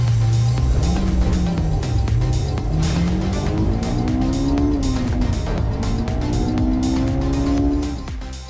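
A 2022 Nissan Pathfinder Platinum SUV on the move, its engine a loud, steady drone whose pitch rises and falls with shifts and acceleration, with road noise throughout and a slight fade at the end.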